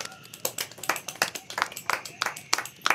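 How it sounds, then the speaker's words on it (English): Scattered audience clapping on a comedy stage show: uneven, loosely spaced claps of moderate volume, never building into full applause, with faint talk or murmur underneath. "let's have a round of applause for Ugg"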